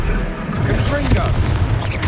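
A Confringo blasting spell cast in Hogwarts Legacy during a duel bursts into a booming explosion that rumbles briefly amid combat noise, with voices heard around it.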